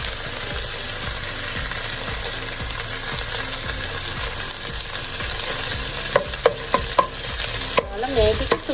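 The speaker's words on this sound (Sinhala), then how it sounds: "දැන් මේ ටික මෙතන බැදෙනකොට මේ පැත්තේ තියෙන මස් ටිකත් යට මස් වල තෙලෙන්න බැදෙනවා." Onions and lamb frying in an oiled pan for a lamb curry, a continuous close sizzle under steady stirring and scraping, with several sharper utensil clicks toward the end.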